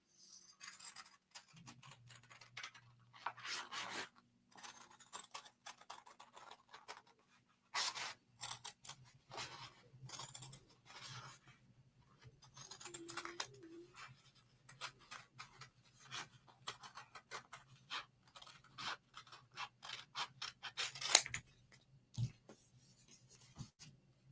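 Scissors snip through appliqué fabric pieces for a beach towel in a steady run of faint, close cuts and rustles, with a low hum beneath and no talking.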